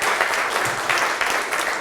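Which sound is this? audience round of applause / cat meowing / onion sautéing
audience round of applause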